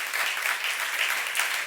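A church congregation claps together in a brief, dense burst of applause, close and fairly loud, with no voices heard.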